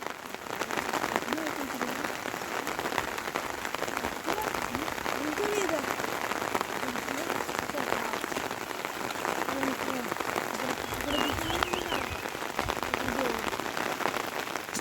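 Rain falls on a village in the Konkan region with a steady, dense patter on surfaces, while a person talks over it.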